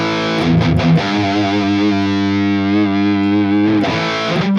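A loud, heavily distorted high-gain electric guitar tone from a NUX MG-30 patch with a Harley Benton Fusion 3 and Ownhammer cab: chugged chords at first, then a long sustained ringing chord, and a fresh strike near the end.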